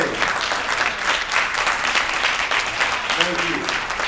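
Steady applause from the audience at an NAACP Freedom Gala, a dense, even patter of many hands clapping with no pause throughout.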